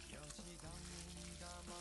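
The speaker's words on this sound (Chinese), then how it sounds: "再把猪肉也煎一下" Starch-coated pork slices pan-frying in the oil left from frying tofu, a faint, even sizzle running continuously with light crackle and no talk.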